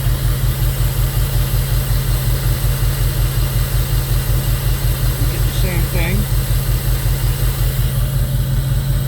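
A 2002 Jeep Grand Cherokee 4.7 HO V8 idles with a misfire caused by a melting coil problem, a loud, close, steady idle with a repeating uneven pulse throughout.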